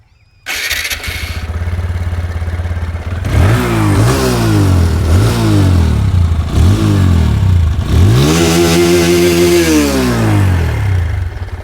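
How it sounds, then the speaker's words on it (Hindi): A TVS Apache 160 2V motorcycle fires up and settles into a loud, close idle, then its exhaust is blipped through a series of sharp revs rising and falling, ending in one longer, higher rev. "इसका आप सुनते हैं एक बार एग्जॉस्ट नोट"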